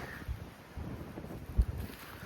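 Wind gusts across an open campsite beside Inanda Dam, a steady low rumble with buffeting against the microphone that swells and peaks briefly; no one speaks.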